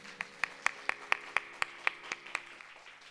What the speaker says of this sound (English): Why not an encouraging applause to this wonderful performance?